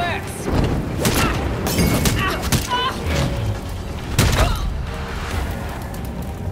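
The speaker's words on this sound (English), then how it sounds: "Enjoying the fireworks." Fireworks going off in the video game Gotham Knights: repeated booming bursts and crackling blasts over a dense, continuous rumble, several sharp loud pops standing out at irregular intervals.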